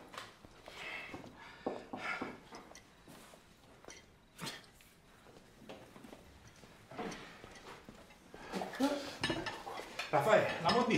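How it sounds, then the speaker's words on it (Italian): Plates and cutlery clatter and clink as dishes are gathered and carried away after an orecchiette meal, with irregular knocks and scrapes that grow busier and louder toward the end and faint voices at times. "Io porto di là i piatti."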